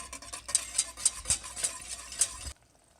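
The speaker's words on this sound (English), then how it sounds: "Whisk." Garlic noodle sauce of butter, minced garlic, oyster, soy and fish sauce is whisked in a pan, giving a rhythmic series of quick metallic ticks and soft sizzling strokes that stop abruptly.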